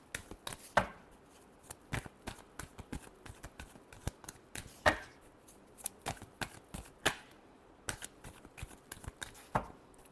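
Tarot cards being shuffled by hand for a reading: soft, close riffling and snapping bursts in an irregular rhythm with brief pauses between, quiet and alone with no talking.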